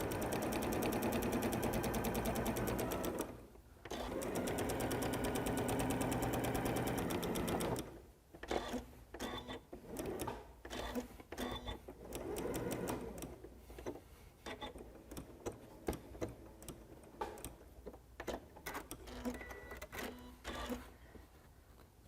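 A sewing machine sews a straight stitch around appliqué letters, humming steadily at close range, breaking off briefly, then running again before shifting into many short, stop-start bursts with clicks in between.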